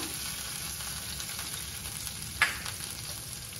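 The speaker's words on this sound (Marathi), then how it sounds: "बारीक गॅसवरती आपल्याला हे वाटण छान असं परतून घ्यायचं आहे।" Ground masala paste frying over a low flame in a pan for a Maharashtrian mushroom curry, giving a soft, steady sizzle with one brief clink partway through and no talking.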